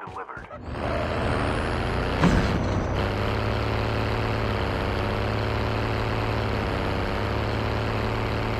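Tank engine in a video game, a loud continuous low rumble and mechanical drone that starts after a short burst and holds steady to the end, with a brief hiss-like swell near the start.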